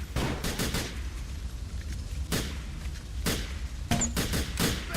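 Pistol shots crack repeatedly in the GTA The Lost and Damned video game, loud, irregular bursts over a dense, rumbling background of game action and distant gunfire.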